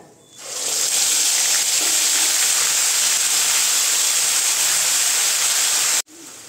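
Onion paste drops into hot oil with spices and fries with a sudden loud, steady sizzle and hiss that holds evenly for about five seconds before cutting off.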